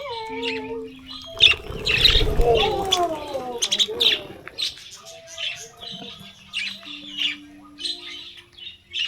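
Birds chirping and squawking at a farm in Bohol, Philippines, with a burst of loud calls near the start, then scattered tweets and whistles continuing close by, with occasional soft human voices.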